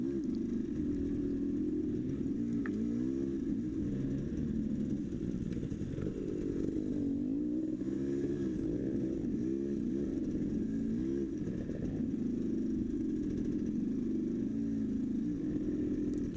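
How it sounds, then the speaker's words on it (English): An enduro motorcycle engine buzzes and revs continuously while riding a trail, pitch rising and falling with throttle, heard steadily and fairly close throughout. "Get that motorcycle moving."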